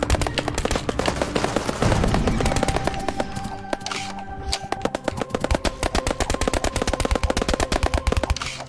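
Shooting and stabbing in Dungeon Munchies, a game: rapid, repeated sharp hits and shots in quick bursts, loud and close, with ringing game tones mixed in and a steady rhythmic rattle toward the end.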